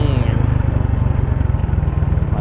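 A small underbone motorcycle engine drones at high revs, a steady loud pulsing buzz close by, with a voice talking over it.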